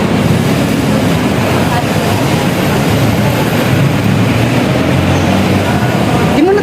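An MRT train at a busy Manila station, a loud, continuous low rumble and roar of the train running close by, with a steady mechanical drone throughout and a brief rising squeal near the end.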